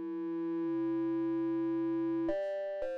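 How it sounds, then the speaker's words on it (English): Logic Pro X Retro Synth tone with an LFO modulating its pitch, a clean sustained electronic tone that steps between pitches and shifts timbre, heard alone at moderate level. "Once the oscillator reaches the audible range, you will notice that it doesn't sound like vibrato. Instead, it sounds like a new timbre is being created."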